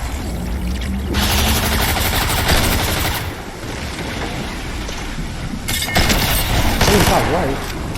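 Video game gunfire during a duo match, rapid bursts of automatic shots in two loud stretches separated by a quieter gap, up close with tinkling clinks mixed in.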